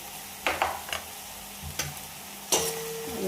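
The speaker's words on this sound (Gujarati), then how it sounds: "બરાબર મિક્સ કરી લઈશું।" Masala being stirred into bhindi (okra) curry in a pan, with a few sharp scraping and clinking strokes of the spoon against the pan over a faint background sizzle, no talking.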